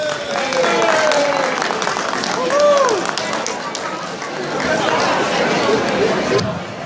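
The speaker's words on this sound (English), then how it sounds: "Let's give a big hand of applause to the Bronx Zoo" Audience applause for the Bronx Zoo at a Bronx Day event in Albany, a steady wash of clapping mixed with crowd chatter and overlapping voices throughout, rising briefly mid-way.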